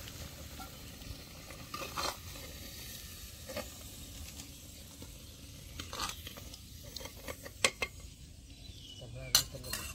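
Onions fry in hot oil in a clay pot for village-style chicken, giving a steady close sizzle broken by occasional clinks and scrapes of a metal utensil against the pot.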